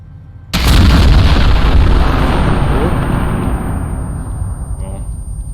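Sudden, loud explosion of an ATV in the video game Arma Antistasi, a heavy close blast with a long rumbling decay.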